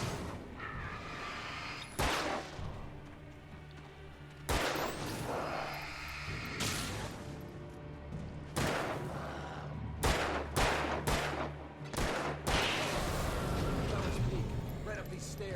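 Gunshots from the video game Alan Wake: a string of sharp, separate shots, some in quick bursts, set against a low droning game background with voices in places.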